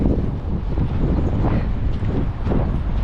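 Strong wind gusting steadily across an outdoor microphone at midday, a loud continuous low rumble with no voices.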